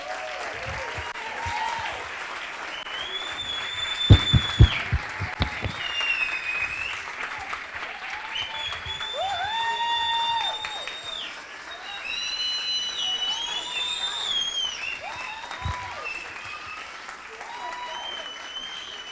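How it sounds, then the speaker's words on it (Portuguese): A church congregation at an Easter celebration service applauds, the clapping swelling in bursts and continuing under voices and tonal sounds that carry over it. "Eu quero pedir para os irmãos que dêem uma grande salva de palmas para Jesus."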